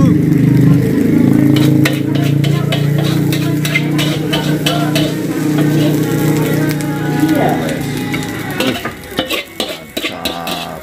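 Nasi goreng is stir-fried on a late-night street food stall in Bekasi: a spatula scrapes and clanks against the wok over a constant loud sizzle, then it turns to sharper clinks near the end, with voices in the background.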